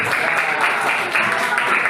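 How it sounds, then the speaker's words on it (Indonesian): A classroom group applauds as group 2 stands, a steady wash of clapping lasting about two seconds at moderate loudness. "Ya, kasih tepuk tangan untuk kelompok 2."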